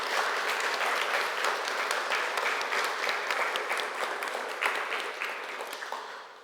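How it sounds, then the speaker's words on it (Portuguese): Audience applause during a church sermon after a prayer, a steady wash of clapping heard alone, gradually softening over several seconds. "Uma salva de palmas para você por ter feito essa oração."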